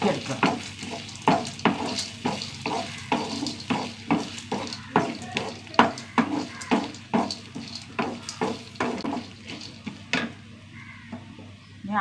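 Sliced onions and roasted gram sautéing in a pan, a steady close sizzle broken by a regular run of spatula strokes scraping and stirring, about two per second, with no talk.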